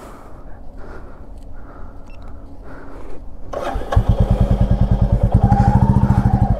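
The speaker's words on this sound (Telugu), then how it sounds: "గైస్ ఇప్పుడు BS3 versus BS6 drag race అంట" A Royal Enfield Classic 350 starts and revs up, and its low thumping single-cylinder exhaust pulses grow loud and rapid after a quieter idling stretch as BS3 and BS6 versions line up for a drag race.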